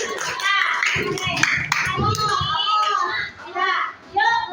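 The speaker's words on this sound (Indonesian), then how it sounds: "Tepuk tangan dulu." Children in an Indonesian classroom clap their hands together in a quick burst of claps, close and lively, mixed with children's voices and chatter.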